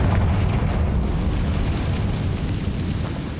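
The Confringo fire spell exploding in the Hogwarts Legacy video game, a loud, dense rumbling blast that fills the whole moment and slowly fades.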